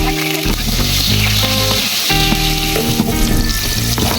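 Garlic sizzles loudly and steadily in hot oil inside a Simplas multi-cooker, a continuous close frying hiss layered with some tonal background sound.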